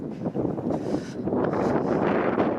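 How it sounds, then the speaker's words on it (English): Strong wind buffets the microphone while walking along redeveloping Port Lands streets in Toronto, a loud, continuous rumbling roar that swells and dips with gusts. "the wind is freaking terrible"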